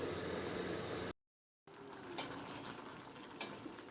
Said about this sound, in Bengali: ঘুগনিটা এখানে ফুটছে